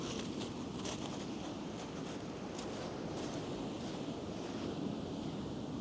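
Sea waves break continuously on a pebbly, sandy beach, a steady loud wash of surf with wind buffeting the microphone and no voices.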